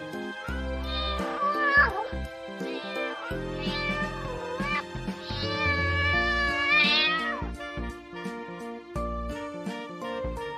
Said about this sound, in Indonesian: Lihat adik-adik, ternyata ada seekor kucing.